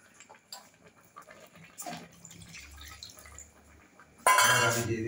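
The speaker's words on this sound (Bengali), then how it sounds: "আর একটু হালকা জল দিতে হবে" Water poured from a vessel into a cooking pan of frying vegetables (stalks, spinach, fried cauliflower and raw tomato) for a Bengali mixed-vegetable dish; a brief, loud splashing pour arrives near the end after quieter kitchen clatter.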